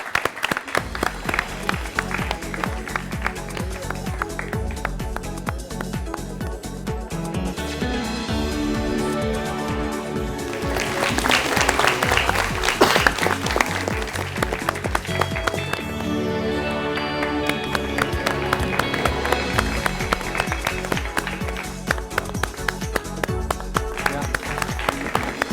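At a national quiz final prize-giving, a crowd claps in a steady, rhythmic beat for a long stretch while tonal music plays along underneath.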